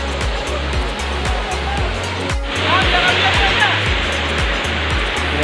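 Waterfall at a falls near San Mateo, Rizal: a steady, loud broadband roar of rushing water, with a low pulsing rumble underneath and faint voices in the background.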